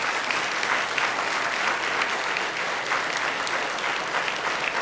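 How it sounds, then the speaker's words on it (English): An audience at a neighborhood summit gives sustained, even applause, a full wash of many hands clapping at a steady loudness for about five seconds with no one speaking. "let's give him a round of applause for his leadership."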